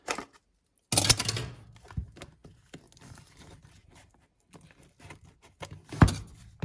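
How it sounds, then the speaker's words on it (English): Cardboard mystery box of baseball items being cut open with dull scissors, close, loud bursts of snipping and crinkling, scraping and rustling with pauses between cuts and no talking. "Maybe get a sharper pair of scissors."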